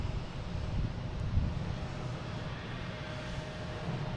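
A JetBlue airliner approaches to land at Boston Logan, heard as a faint, steady low engine rumble with light wind noise and no obvious peak.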